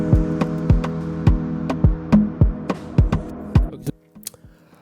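Afrobeats-style production beat built in FL Studio with a filter cutting off the high end, a steady punchy kick pattern under sustained low tones and sparse hits, the highs thinning out and the beat dropping away near the end.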